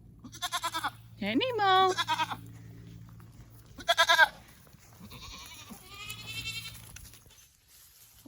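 Goats in a summer pasture, including a dwarf Nigerian milker, bleating several times close by in short wavering calls, with a person calling to them between the cries.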